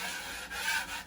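A blade shaves excess joint compound off a wall during repair after wallpaper removal, giving a soft, continuous scraping rasp with a couple of brief strokes, fairly quiet and close.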